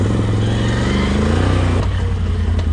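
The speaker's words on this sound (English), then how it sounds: "I like how the engine braking just sort of works there" Loud, close engine droning of a 2021 Can-Am Renegade 1000 XMR ATV on a muddy trail, its pitch easing lower under engine braking as it slows, then settling into a rougher idle near the end.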